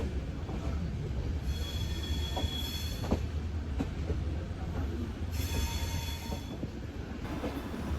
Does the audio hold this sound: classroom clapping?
no